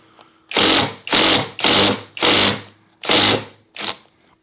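Kreg Ionic Drive impact driver driving screws in automatic mode, six loud close bursts of whirring and hammering, each about half a second long, separated by short pauses and with the final burst shorter.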